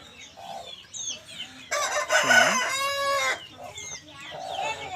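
A short-nose long-tail chicken offered for sale crows loudly and close by, a long harmonic call through the middle, with softer clucks and chicken sounds before and after.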